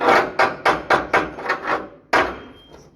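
A hammer chips welding slag off fresh welds on steel plates and channels during a stadium repair, giving about eight sharp metallic knocks in an uneven rhythm, close and loud with no talking.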